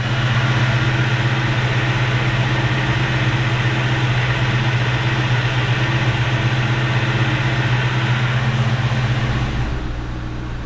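A 2003 Ford Mustang GT V8 idles in first gear with a faulty throwout bearing, giving a steady, loud low hum with a continuous drone that changes near the end.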